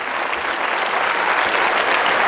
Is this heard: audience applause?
yes